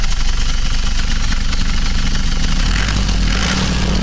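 A 2012 Isuzu Panther 2.5 LV diesel (4JA1-L engine) idles with a steady, loud, rough rumble and constant low mechanical clatter, running alone without any voices.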